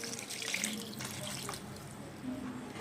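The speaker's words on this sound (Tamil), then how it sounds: "ஒரு சொம்பு தண்ணி ஊற்றலாம்." Water runs and splashes steadily into a cooking pot of tomato kurma, a continuous pouring sound close by with slight gurgling changes.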